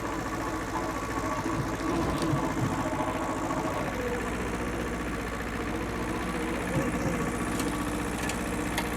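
An old Japanese 4x4 farm tractor engine runs steadily at close range, a continuous mid-pitched rumble with faint knocking texture while it is put through gears.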